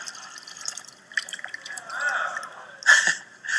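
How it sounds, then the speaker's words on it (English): Pond water pours into a container already holding water, giving light trickling and dripping splashes that swell into a fuller splash near the end, close and fairly quiet. "So I've got some stuff to add into it, and this is from my pond. Right, we're just going to pour that in there."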